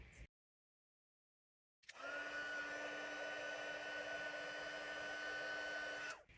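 A heat gun melts gold embossing powder on navy cardstock. After a short silence it switches on with a steady, close, loud blowing whir like a hair dryer that holds for about four seconds and then stops.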